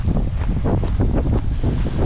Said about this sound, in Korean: 지금 바람은 조금 불고 있고 파도는 지금 잔잔한데